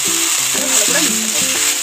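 Water hitting a hot, oil-brushed tawa for suji dosa gives a steady, bright sizzling hiss that runs close and loud through the whole moment, with a tuneful musical bed underneath.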